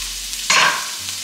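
Sausages in a frying pan with garlic butter: a quiet background, then one brief burst of sizzling and stirring that quickly fades.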